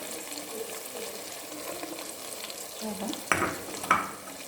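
Grated garlic, onions and chives frying in a pan give a steady low sizzle, with stirring and a couple of sharper scrapes and clatters near the end.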